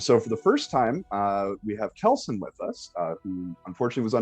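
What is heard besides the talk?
No distinct noise like a dog, phone or traffic.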